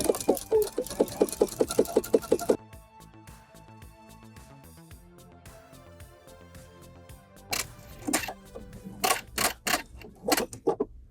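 Sewing machine stitching a seam in delicate silk fabric, a fast close-up run of rhythmic mechanical clatter that stops abruptly, followed by a quieter stretch and scattered clicks and handling noises.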